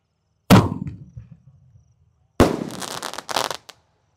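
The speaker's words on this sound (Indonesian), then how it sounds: "Dan ini ada mercon Bima Sakti yang paling jumbo ukuran 5 inci. Meledusnya 2 kali ya, di bawah dan di atas." A jumbo 5-inch Bima Sakti firecracker goes off twice outdoors: one sharp loud blast followed by a fading rumble, then a second burst with crackling a couple of seconds later.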